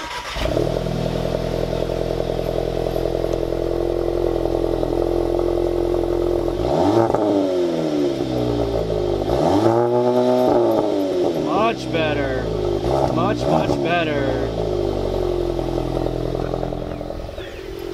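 A Subaru WRX engine starts and revs, a steady idle broken by several rising and falling rev sweeps, close and loud, with mechanical clatter underneath.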